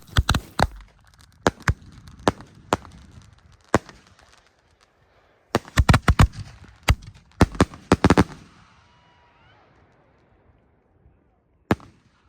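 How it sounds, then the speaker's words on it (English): Two homemade fireworks mortar racks firing 3-inch shells together, a rapid run of sharp loud bangs and booms echoing outdoors, clustered volleys with pauses and a final distant pop. "both of these mortar racks going off at once"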